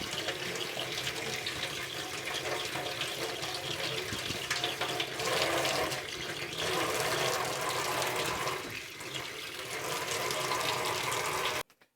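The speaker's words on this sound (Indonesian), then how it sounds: "Selanjutnya kita cuci hingga bersih di bawah air mengalir." Guava leaves rinsed under a running tap, a steady loud stream of water splashing continuously for about twelve seconds before cutting off abruptly at the end.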